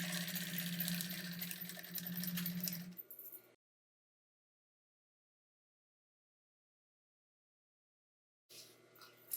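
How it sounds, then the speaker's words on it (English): A sewing machine stitches fabric for an insulated casserole carrier, running in a fast, close mechanical burst for about three seconds before stopping, then starting again briefly after a long silence. "So now we're going to sew between these two pins."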